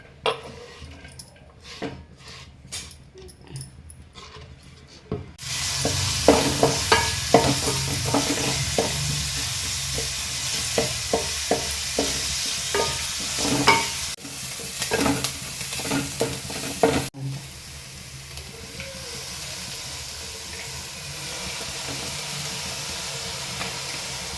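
Chopped seasonal Goan vegetables (pidukechi bhaji) frying in oil in a pan, stirred with a utensil: steady close sizzling and hissing with repeated scraping stir strokes, louder after oil is added, with no talk.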